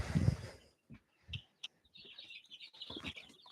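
Small pet birds back in their cage with their companions give scattered short chirps and tweets, faint and intermittent, with a few soft rustles in a quiet room and no speech.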